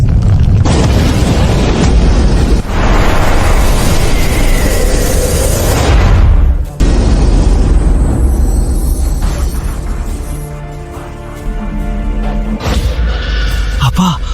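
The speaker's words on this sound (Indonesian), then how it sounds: "Waduh, mau meledak!" A loud, sustained booming rumble fills the scene, with a sudden cut midway, then continued heavy roaring and crashing noise.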